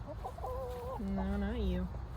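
A farm chicken clucks close by in a series of short warbling notes. The notes rise and fall in pitch and sit over low background noise, with faint outdoor activity around them.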